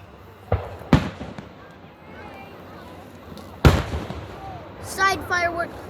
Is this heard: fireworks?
yes